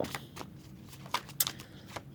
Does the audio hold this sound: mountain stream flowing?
no